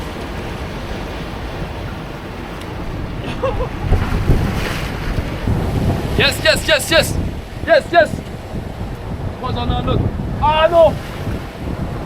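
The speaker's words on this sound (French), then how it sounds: "mais le vent s'est levé là un peu. Et surtout il y a des vagues." Steady wind buffets the microphone while waves wash nearby, with people talking briefly over the gusty outdoor noise.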